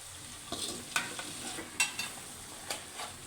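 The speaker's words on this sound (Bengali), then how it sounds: "এবার আমি চিকেনের সাথে মশলাটাকে ভালো করে মিশিয়ে নেব।" Chicken leg pieces are mixed with masala in a pan for Arabian kabsa rice. A faint sizzle runs beneath a handful of sharp spoon scrapes and taps at irregular intervals, heard close and quiet with no speech.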